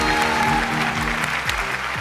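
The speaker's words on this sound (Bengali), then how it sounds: "আর জোরে হাততালি, জোরে!" Steady clapping from a studio audience at a comedy show, dense and continuous with a low musical hum beneath, no talk over it.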